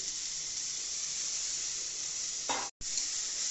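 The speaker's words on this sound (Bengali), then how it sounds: "দেখছেন ভাজা হচ্ছে ডালটাকে।" Mung dal sizzling as it fries in hot oil, a steady close hiss throughout with a brief louder burst near the end followed by a momentary dropout, no talking.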